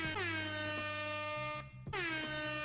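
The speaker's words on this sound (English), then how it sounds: "That was a late air horn on that one." A loud, blaring air horn sounds in a long sustained blast, cuts out briefly, then blasts again.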